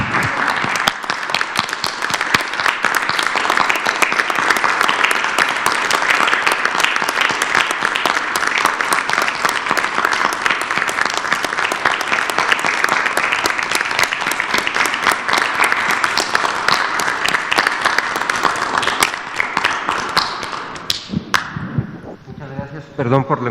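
A long, sustained round of brisk, loud clapping in honor of health sector workers during a live press conference. It rolls on for about twenty seconds, then thins out and fades as a voice returns at the end.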